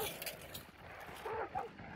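A dog in the video game Hunt: Showdown lets out a couple of short barks, fairly faint and set back in a murky ambient game soundscape, with a voice talking faintly underneath.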